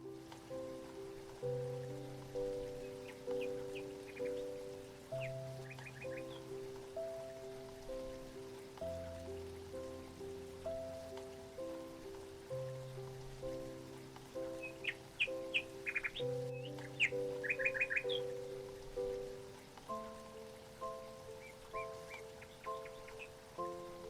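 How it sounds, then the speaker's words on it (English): Light rain patters steadily while small birds chirp in short bursts now and then, with a soft, layered tonal hum underneath. "As gentle raindrops fall, and the soft sounds of birds mingle with distant thunder"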